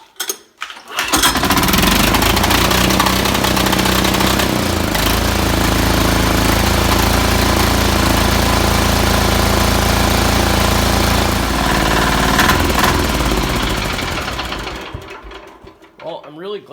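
A small engine on a C&B special build runs steady and loud after a throttle cable adjustment, starting up, holding a sustained rattling drone, then winding down near the end.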